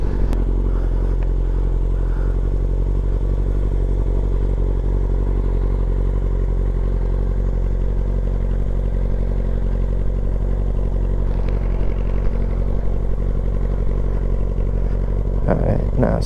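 A motorcycle ridden slowly by a learner around a circle, with a steady low engine hum throughout, a few clattering knocks and a brief louder burst near the end; a voice may be faintly present.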